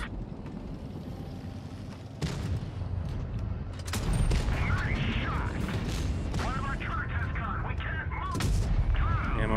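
Tank cannon fire and an ammo rack detonation in World of Tanks Blitz during a competitive qualifier match, with several sharp booming shots and crashing blasts spaced across a busy, loud battle soundscape.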